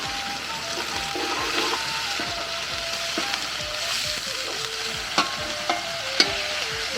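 Pork and green leafy vegetables fry and get stirred in a pan, giving a steady close sizzle with repeated scraping strokes of a utensil and a few sharper clinks near the end.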